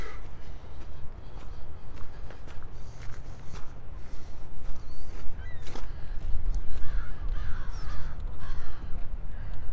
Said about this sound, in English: crows cawing over there.